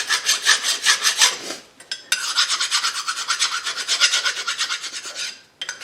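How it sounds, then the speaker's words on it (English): Emery cloth rubbed by hand over corroded brake caliper tabs on a 2005 Buick Rendezvous, a close rhythmic rasping scrub in quick back-and-forth strokes, pausing briefly midway before resuming. "And just a piece of emery cloth"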